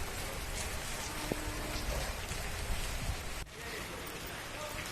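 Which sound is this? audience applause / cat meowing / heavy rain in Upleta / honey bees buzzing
heavy rain in Upleta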